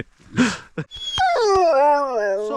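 A hunting dog gives voice during a Christmas Eve driven hunt, with a sharp bark, a short second bark, then a long rising and falling howl held for over a second, close and loud.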